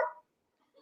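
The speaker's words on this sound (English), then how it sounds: "that's my dog." A dog barks indoors, one short bark, a brief pause of silence, then the start of another sharp bark, fairly close and with no talk over it.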